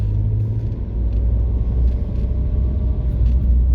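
A 2005 Ford Mondeo Mk3 2.2 diesel Ghia X on the move, a steady low engine rumble and road noise heard from inside the car, continuous and fairly loud with no talking.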